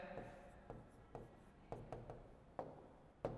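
Marker or chalk strokes on a board while a physics-chemistry formula is written, a series of short scratchy taps at irregular intervals, fairly close, with a quiet voice talking underneath.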